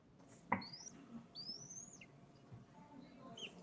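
Eaglets squeak in a nest in thin, high chirps, a few short calls spread through the clip over faint outdoor background, with one sharp tap near the start.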